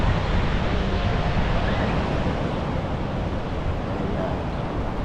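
Ocean waves wash on a beach in a continuous loud roar of surf, heavily buffeted by wind noise on the microphone, with no clear talk.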